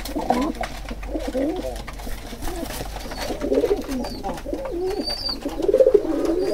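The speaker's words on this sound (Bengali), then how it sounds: "দুপুরবেলা কবুতরগুলোকে খাবার দিতে এসেছি।" Pigeons coo repeatedly in soft, rolling bursts during a midday feeding on a rainy day, the throaty calls close and steady over a low background hum.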